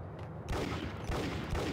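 Dense volley of gunfire in the Max Payne video game, a sustained burst of overlapping shots at close range filling the clip after a brief lead-in.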